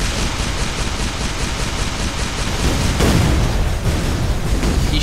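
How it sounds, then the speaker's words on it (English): Loud, rumbling explosions from the artillery game Shellshock Live, a point-blank blast with dense booming noise throughout and a sharper burst about midway. "Point blank explosions."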